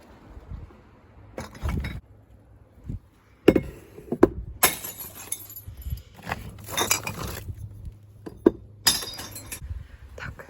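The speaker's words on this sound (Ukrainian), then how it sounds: "Тепер скло сюди." Glass bottles tipped into a recycling container, several bursts of loud clinking and shattering crashes spread over the clip, with quieter rattles and handling noises between them.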